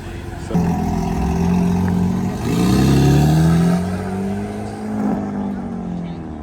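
BMW at a BMW-only car meet accelerating hard, a loud engine roar that climbs in pitch through gears, nearby and sustained over several seconds, with people talking around it.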